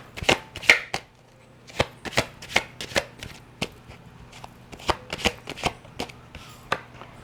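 Tarot cards are shuffled and handled in a quiet room, giving a series of sharp riffling snaps and flicks at an uneven rhythm, close and fairly clear, with no talking.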